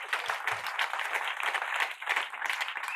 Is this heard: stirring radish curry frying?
no